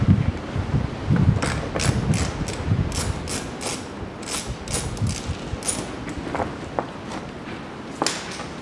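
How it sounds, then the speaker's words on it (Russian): A socket wrench undoes 8–10 mm self-tapping screws beneath a 2006 BMW 530i E60 4WD during a driveshaft boot job. Close, irregular bursts of ratchet clicking and small metallic rattles sound over a quiet background. "Теперь мы здесь откручиваем головкой на 8-10 саморезов."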